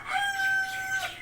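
A backyard chicken gives one drawn-out, tonal call that rises and falls. It is close and clear against a quiet background.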